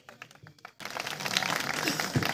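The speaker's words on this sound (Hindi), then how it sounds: "जोरदार तालियां लड़के के लिए" Applause breaks out for a boy actor at a Ramlila awards show in Himachal, a crowd clapping steadily and fairly loudly after a short spoken introduction.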